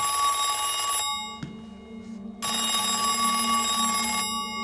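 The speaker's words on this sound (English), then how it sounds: "The phone's ringing." A telephone rings loudly in two long electronic bursts separated by a quieter gap with a low hum and faint background sounds.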